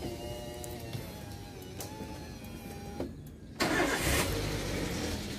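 A Daihatsu Xenia 1300cc engine with a rough-running fault starts up after a quiet mechanical hum and whirring, then a louder broadband roar of the engine catching and running close by.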